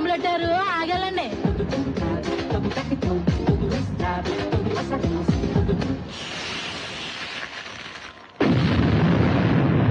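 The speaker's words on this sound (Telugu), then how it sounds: "కొండలకు బాంబులు పెట్టారు" Cinematic bombs exploding in hillside terrain for a Telugu romantic film, heavy booming bursts mixed with music and a sudden loud blast near the end, with people shouting and talking over it.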